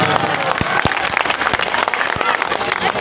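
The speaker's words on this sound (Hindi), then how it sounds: "एक बार जोरदार ताली अपने लिए बजा दीजिए सब लोग।" Crowd at a political rally in New Delhi claps loudly and steadily throughout, a dense wash of applause with a few sharper individual claps standing out.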